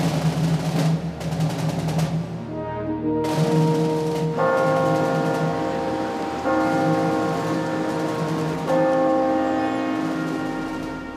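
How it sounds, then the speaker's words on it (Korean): Bells ring out across downtown Seoul at 6 p.m. during a 1987 pro-democracy call, with several heavy resonant strikes whose long humming tones overlap and linger, loud and steady with no voices. "오후 6시 국민운동본부 지침에 따라 서울 시내에 종소리가 울려 퍼졌다."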